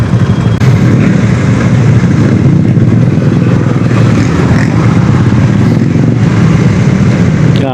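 A KTM RC390 motorcycle engine runs with a loud, steady, close mechanical rumble and light clatter throughout, idling without clear revving, and no talk over it.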